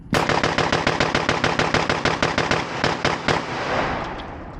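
Rapid burst of about twenty loud, evenly spaced shots from a Dissident Arms KL-12 shotgun firing Aguila rounds from a closed bolt, then a short fading echo.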